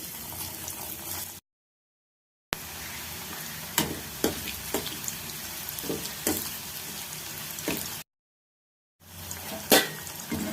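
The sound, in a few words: bitter gourd frying in hot oil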